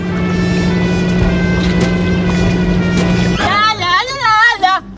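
A toy boat's small motor runs fast on water with a steady, buzzing whine for about three seconds, then gives way to excited children's voices shouting.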